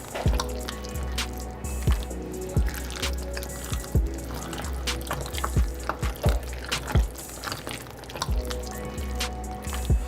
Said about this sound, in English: You're gonna get that nice gunky sound when you do it right.